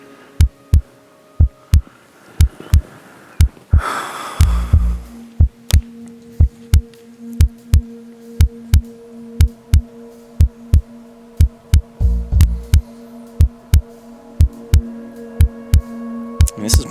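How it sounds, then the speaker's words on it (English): A steady thumping heartbeat effect plays under a poker tournament broadcast, with regular low double beats continuing throughout, along with a faint hum and a few brief swells of background noise. "Heartbeats in the ears make it a lot easier to make a good decision"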